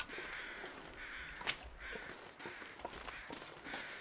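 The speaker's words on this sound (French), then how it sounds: "Les corbeaux, restez là parce que sinon je vais vous perdre." Crows cawing in the survival video game The Long Dark, several rough calls scattered across a quiet wind-like outdoor ambience at moderate distance.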